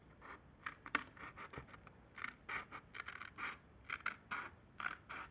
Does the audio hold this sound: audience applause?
no